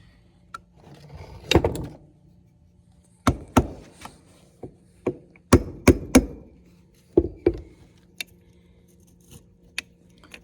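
Sharp metal taps knock a part out of a Honda Fourtrax TRX 300 carburetor on a workbench, in scattered single strikes and short clusters with quiet gaps between them.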